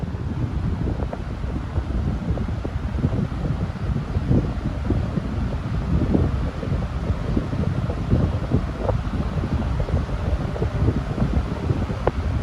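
A 20-inch Master high velocity fan runs at full power, giving a steady, dense broadband whoosh of moving air that stays even and continuous throughout, close and fairly loud with no talking.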